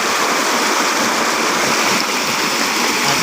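Water spills steadily over a small stone-lined mini waterfall, a continuous broadband rushing and splashing that stays loud and close with no pauses and no voices.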